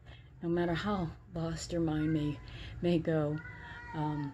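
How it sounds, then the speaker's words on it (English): Drawn-out meows from a pet cat rise and fall in several separate calls close by, alternating with a woman's speech. "So if you hear a weird meowing in the background, that's my kitty."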